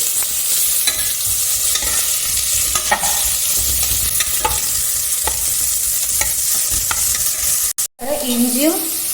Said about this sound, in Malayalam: ഇത് ചൂടായിട്ടുണ്ട് ഞാൻ ഒരു ഉള്ളി നേരിയതാക്കി മുറിച്ചത് അത് ഇടുന്നുണ്ട്